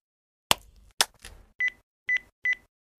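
A mobile phone keypad pressed several times: a few clicks, then three short, evenly spaced beep tones, close and clear in a quiet room.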